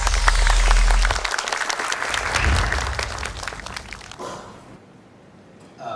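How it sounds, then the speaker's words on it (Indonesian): Dense, loud applause from an audience at an Indonesian community and ministry discussion event swells and then tapers off over a few seconds, fading to near quiet with a brief sound at the end. "mari kita beri tepuk tangan yang meriah"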